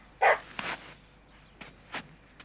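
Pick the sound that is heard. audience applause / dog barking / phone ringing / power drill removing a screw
dog barking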